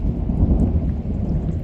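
Distant thunder rolls in a steady low rumble after a night of rain, continuous and muffled throughout the short stretch with no voices.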